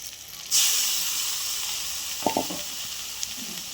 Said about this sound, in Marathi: त्यामध्ये आपण थोडे शेंगदाणे टाकणार आहोत आणि सोबत थोडीशी हळद देखील टाकणार आहोत आणि छान असं परतून घेणार आहोत